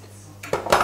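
Brown cassonade sugar spooned into a dish, a few quick clinks and soft rattles of a spoon against the bowl, close and fairly loud, with no talk.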